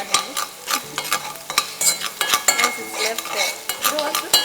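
Garlic frying with a pinch of salt in a pan, a soft sizzle under frequent scraping and clinking of a utensil against the metal pan, close and busy, with no talk.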